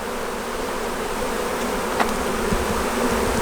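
Honey bees buzz steadily around an opened, abandoned beehive whose frames hold capped honey, a dense close hum that runs throughout with no voices.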